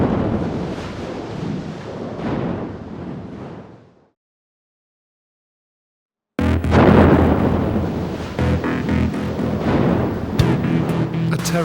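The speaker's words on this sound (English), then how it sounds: "and then it went off." A nail bomb goes off in Brixton, South London, in 1999: a loud, rumbling blast fades over a few seconds, the sound drops out completely, then a loud, chaotic roar of noise returns.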